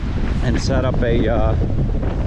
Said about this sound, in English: But that's how windy it is right now.